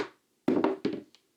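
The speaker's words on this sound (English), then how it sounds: "tap with a hammer" Three quick, close taps of a hammer on a plastic wall plug in plasterboard, muted and woody, spaced irregularly within a second and a half.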